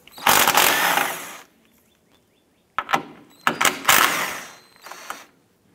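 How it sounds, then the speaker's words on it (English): A ratchet wrench with a 13mm socket turns bolts on the strut tower brace of a 2004-2008 Acura TL, giving bursts of close, rapid ratcheting clicks separated by quiet gaps and a few metallic knocks. "I'm going to use a 13mm socket."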